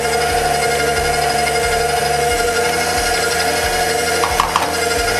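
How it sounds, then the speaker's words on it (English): An electric mixer whirls a tiramisu cream mixture of whipped topping, egg, cheese and pistachio, giving a steady loud motor drone with a regular low pulsing throughout and a few brief clatters near the end. "We're just going to give this a quick whirl."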